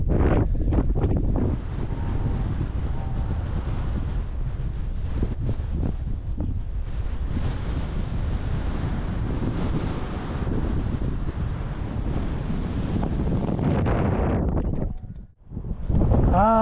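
Strong wind buffets the microphone in continuous roaring gusts on a mountain trail near Monte Paganuccio in the Gola del Furlo reserve, Italy, briefly dropping away near the end before surging back.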